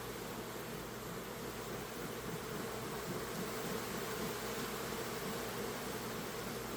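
Honey bees hum around an open hive during an inspection. The buzz is a dense, continuous drone that stays even throughout, with no voices.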